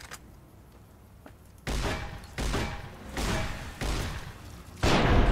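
A 12-gauge shotgun loaded with flechette rounds in Fallout: New Vegas fires five loud, booming blasts, each followed by a rattling tail, after a quieter stretch with a few faint clicks.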